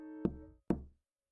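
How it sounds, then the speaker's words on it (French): Two firm knocks on a wooden door, spaced about half a second apart, each with a short resonant ring that fades before silence, clear and alone. "Il frappa à la porte."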